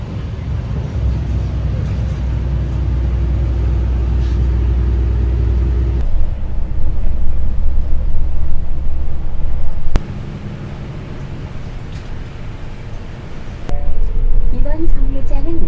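Inside a bus on a mountain descent in South Korea, a steady low engine and road rumble fills the cabin, shifting in level as the ride goes on, with a voice talking over it.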